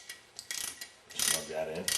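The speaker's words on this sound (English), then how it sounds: "Got our 1/4-inch ratchet again. Quarter-inch Allen socket." A quarter-inch ratchet fitted with a quarter-inch Allen socket turns while rebuilding a Meyer E-60 unit, giving a close, moderately loud burst of clicking strokes that builds toward the end, with no speech.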